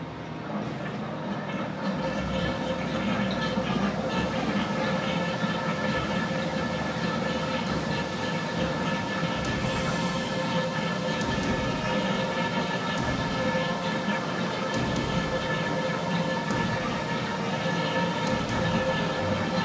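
An air-powered needle wheel with no silencer runs at low speed in a DIY test, a loud steady pneumatic whine and hiss with layered tonal buzzing that holds constant for the whole stretch.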